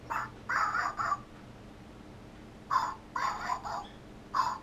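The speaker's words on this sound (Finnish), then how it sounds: "Mistä se tuli tuo lintu?" Crows caw in the open air, one bird calling in two separate bursts of three or four harsh notes each, then one more near the end, moderately close against a quiet background.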